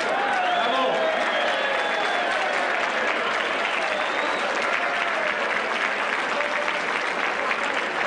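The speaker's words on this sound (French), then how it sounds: "À vous tous, nos membres, à nous tous, applaudissons-nous." Audience applauding at an evening gala, dense and sustained clapping with a few voices mixed in, loud and steady throughout.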